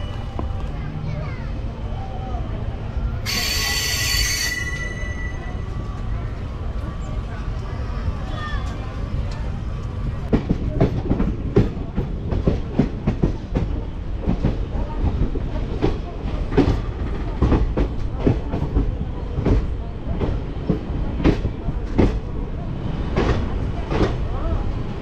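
A train pulls out of Kumarganj station, heard from on board: a steady rolling rumble builds into rhythmic wheel clatter over rail joints, with a brief high squeal early on.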